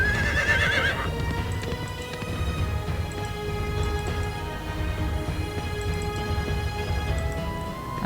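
Horses neigh and whinny with steady clip-clopping hooves, game sound effects for horse archer units in the fantasy strategy game Age of Wonders: Shadow Magic, a loud whinny opening the stretch and hooves continuing throughout.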